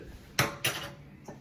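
A lid goes onto a cooking pot on the stove with two close metallic clanks a moment apart, then a softer clink as it settles, in a quiet kitchen without talk.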